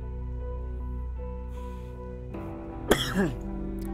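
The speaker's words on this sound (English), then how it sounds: "Excuse me for coughing" One short, harsh cough breaks through a steady low electrical hum, followed by a brief throaty rasp.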